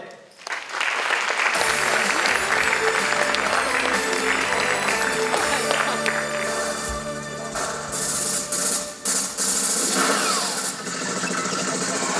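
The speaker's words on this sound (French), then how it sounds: "Applaudissons-les." Applause welcoming new students at a Cégep de Rivière-du-Loup back-to-school event rises briefly, then is quickly swamped by loud music that plays continuously, with the clapping persisting faintly underneath.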